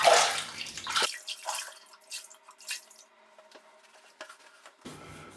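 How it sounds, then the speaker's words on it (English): Water splashing and dripping as a face and double-edge razor are rinsed during a shave, with a loud burst of splashing at the start, scattered drips in the middle and another splash at the end. "Okay, just rinse."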